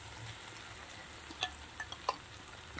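Spice paste for doi katla fries quietly in a pan, a faint constant sizzle with a few light clicks and scrapes of stirring, and no voice.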